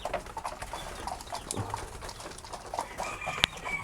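Backyard chickens in the Philippines are fed, with soft clucks and bird calls scattered over a busy rustling background and one sharp peep near the end.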